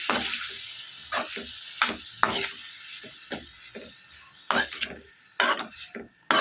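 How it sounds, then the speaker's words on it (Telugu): Amaranth and spinach leaves stirred and fried in a pan, with a steady sizzle beneath repeated scraping strokes of a spoon against the pan, close and moderately loud. "ఇలా మొత్తం అంతా కూడా బాగా మిక్స్ చేసుకుని ఈ తోటకూర పాలకూర మొత్తం వేగిపోయి ఫ్రై దగ్గరకు వచ్చేంత వరకు కూడా ఇదంతా మొత్తం ఉడికించుకోవాలి"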